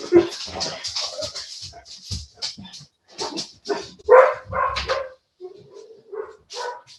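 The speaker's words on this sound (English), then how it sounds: "The dog was calm and asleep until somebody knocked at the door." A dog barks in a house after a knock at the door: a close, insistent series of sharp barks and yips in irregular bursts, broken by brief pauses and a whimpering tone near the end.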